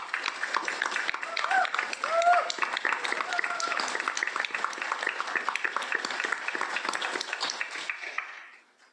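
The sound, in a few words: audience applause at film screening panel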